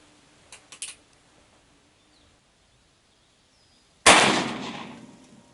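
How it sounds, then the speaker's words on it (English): A Colt 45 pistol firing a 454-sized bullet over a chronograph: a few faint clicks, a quiet pause, then one loud, close gunshot that rings out and decays over about a second and a half. "This time we're shooting our 454s."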